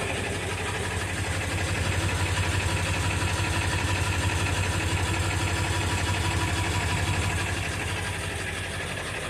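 A 1999 Ford F350 with a 7.3 turbo diesel idles just after a cold start, a steady loud low rumbling clatter running unbroken throughout with no voices.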